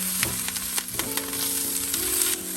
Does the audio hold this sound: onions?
yes